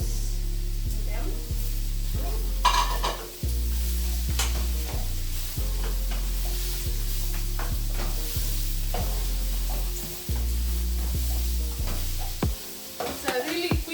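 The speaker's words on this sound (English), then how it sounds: "In the butter, then mushrooms. We add our mushrooms to them." Mushrooms sizzle in butter for mushroom pasta, a continuous close frying hiss broken by repeated stirring and scraping, with low steady tones running underneath the whole time.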